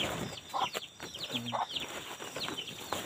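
Hens cluck close by in short, scattered calls, with light rustling underneath and no one talking.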